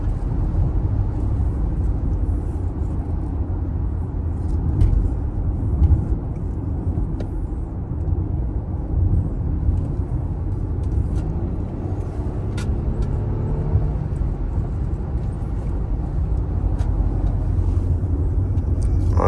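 An Audi SQ8 rolls slowly at night, heard as a steady, loud low engine and road rumble from inside the cabin with little change over the stretch and no talking.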